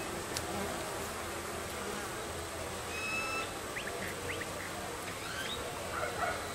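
Honeybees buzz around a weak beehive in a bee yard, a steady close droning hum with individual insects whining past now and then.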